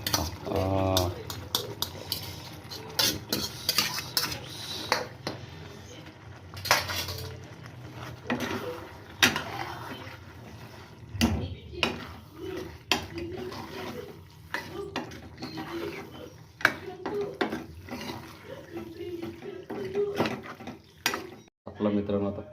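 Cooked pasta stirred into red tomato sauce in a pan, with repeated scraping and clinking of a utensil against the pan in irregular bursts, close up, partly under a person talking.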